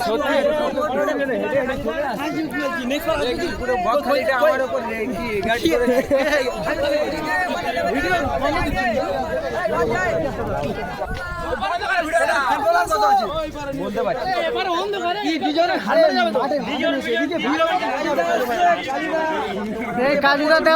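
A crowd of people gathered behind chatters continuously, a close, steady babble of overlapping voices with individual speech standing out at times.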